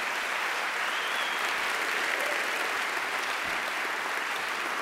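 An audience applauds Jeff Skoll at an evening speaking event, a steady, dense wash of many hands clapping that holds evenly throughout without any voices.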